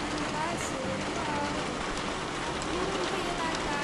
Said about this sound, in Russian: Просто заливает, очень сильный дождь